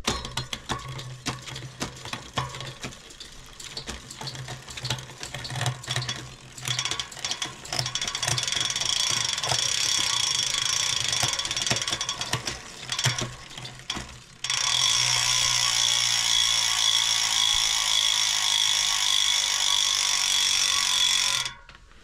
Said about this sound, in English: Obnoxious hub noises.